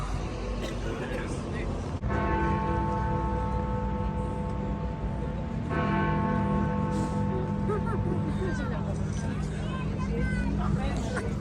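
A bell strikes twice, a few seconds apart, each ring humming on over steady crowd chatter and background traffic.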